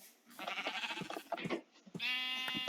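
Sheep in Minecraft bleat in a quick run of wavering calls, then a clear sustained bleat follows after a short pause, close and fairly quiet.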